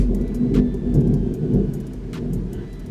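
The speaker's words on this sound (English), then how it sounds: "And this thunder just keep interrupting me." Distant thunder rolls in a low, steady rumble, heard from indoors with faint surges in loudness and no voices over it.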